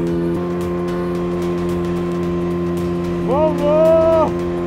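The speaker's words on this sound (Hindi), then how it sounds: "एक बार जरूर आइए यहाँ पर हाई स्पीड ये बोट राइड करने के लिए" A high-speed motorboat running on the river at Patna, its engine holding a steady droning hum that rises into a louder, higher whine for a second near the end, carried on continuously without pause.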